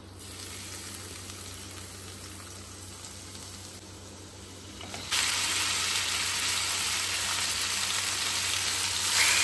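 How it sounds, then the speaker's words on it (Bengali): Marinated chicken frying in olive oil with chopped garlic, a quiet sizzle that jumps to a loud, dense, bright crackle halfway through as the pieces hit the pan, then holds steady and close. "অলিভ অয়েলে একটু চপড গার্লিক দিয়ে তারপরে ম্যারিনেটেড চিকেনগুলোকে ছেড়ে দিলাম"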